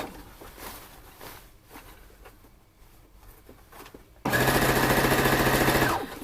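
Sewing machine stitching down an elastic casing on a bodice, a fast steady mechanical whir starting abruptly after quiet shuffling and running for about two seconds, close and loud.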